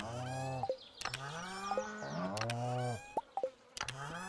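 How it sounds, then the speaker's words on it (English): Cows in the farming video game Stardew Valley moo several times in long, low, drawn-out calls with little pauses between them, loud and close, mixed with short plopping game effects. "I hear you, cows. I hear you."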